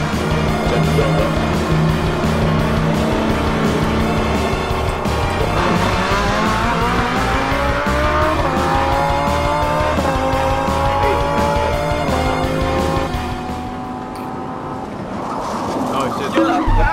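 Race cars tearing around a Roblox racing game, engines roaring loudly and steadily with rising pitch sweeps and squealing tires, the noise dropping off briefly near the end before picking up again.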